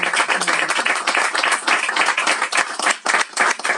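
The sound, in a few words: applause for two speakers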